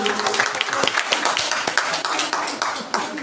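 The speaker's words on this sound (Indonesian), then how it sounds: "Oke, tepuk tangan buat Dewan Juri." Audience clapping for the jury at a primary school science and math competition final held in a school hall, a loose burst of individual claps at close range with uneven rhythm, heard alone without speech.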